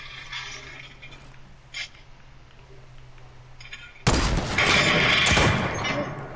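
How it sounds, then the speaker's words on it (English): Six-shooter revolver fire in a video game: quiet ambience with a few faint clicks, then a sudden loud burst of gunfire that carries on as a dense, crackling barrage until the end. "I'm about to hit him with the six shooter."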